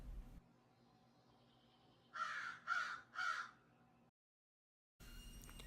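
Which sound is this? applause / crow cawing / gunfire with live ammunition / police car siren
crow cawing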